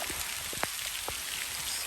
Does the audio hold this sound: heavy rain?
yes